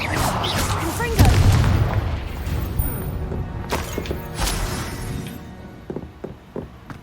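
A Confringo blast spell explodes in Hogwarts Legacy with a loud boom near the start, followed by crashing, rumbling combat effects and scattered impacts; voices are heard over the action.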